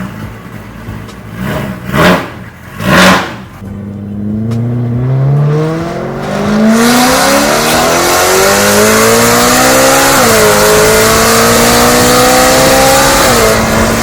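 A car with a new aftermarket exhaust and new wheels revs several times in short bursts, then accelerates away in a long rising drone with gear-shift steps. The sound is loud and close, with no talking.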